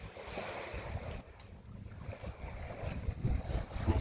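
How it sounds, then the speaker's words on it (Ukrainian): Ocean waves wash onto a rocky beach in Canada, a rushing surf swell that builds toward the end, mixed with gusty wind buffeting the microphone. "Ой, така хвиля."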